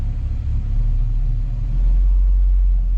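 The engine of a 1972 Chevrolet El Camino idles low at about 500 RPM, a loud, close, steady deep rumble with a slight lope and no talk over it.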